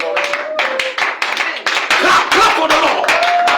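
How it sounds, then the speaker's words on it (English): A church congregation at a Sunday service claps in quick, uneven bursts for Jesus. The clapping is close and loud, mixed with a preacher's voice and sustained organ-like tones. "Can you clap him for Jesus Christ this morning?"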